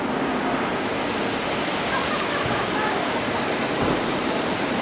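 A China Southern airliner on the runway at Haneda, a broad steady jet roar at moderate distance, constant throughout with a faint murmur of voices beneath.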